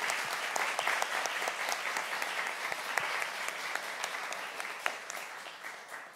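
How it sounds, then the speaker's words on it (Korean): Sustained applause from a lecture audience at a youth-day history talk, a dense, even patter of many hands clapping throughout at a fairly soft, distant level. "선조들의 그 노고에 경의를 표하는 의미에서 박수를 한번 크게"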